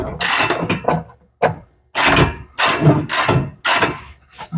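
A ratchet turns starter bolts into a big-block Foxbody Mustang with forward-mount headers while a Powermaster XS Torque starter goes in. It sounds as loud, close clicking bursts in quick repeated strokes with short pauses between them.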